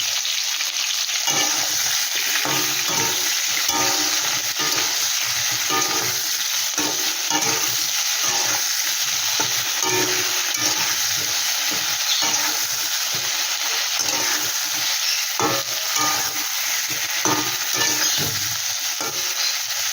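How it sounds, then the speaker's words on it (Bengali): Prawns fry in hot oil in a wok, giving a continuous loud sizzle broken up by repeated stirring scrapes, with no talking. "এদিকে কড়াইতে আমি তেল বসিয়ে দিয়েছি, চিংড়ি মাছগুলো আমি দিয়ে দিচ্ছি।"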